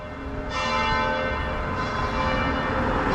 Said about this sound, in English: they just sounded the bell for midday